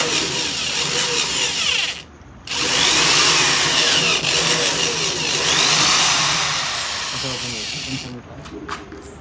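A power drill bores screw holes inside an Omni van during a sound system install, whining loud and close in sustained runs with a brief pause and pitch changes as the bit bites, while people talk over it.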